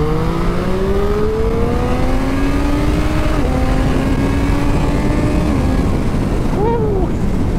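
A 2023 Triumph Street Triple RS and a KTM 890 Duke R do a first-gear roll-on from 15 mph. Their engines rev hard and loud together, with pitch climbing then dipping at shifts, one bike's note rising higher near the end.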